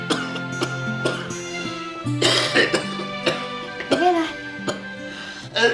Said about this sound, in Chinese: 喝口水哦，喉咙就不会这么痒就不会一直咳嗽了。